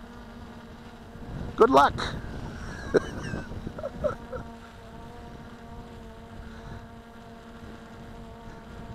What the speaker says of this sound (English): So let's go on a long-range flight with this quadcopter on a slightly breezy morning.